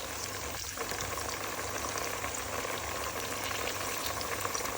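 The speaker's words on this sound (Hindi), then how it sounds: "लहसुन अदरक हमने डाल दिया, इसको हम अच्छी तरह भूनेंगे" Garlic and ginger paste with green chilli frying alongside onions in a pan for mutton yakhni pulao, a steady close sizzle and crackle throughout with no talking.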